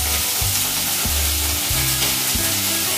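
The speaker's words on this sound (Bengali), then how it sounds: "এই লাইখিনি লাই অকণমান ভাজি লওঁ" Mustard greens (lai) fry in a pan with a constant close sizzle and faint stirring, alongside a recurring low tonal hum, with no voices.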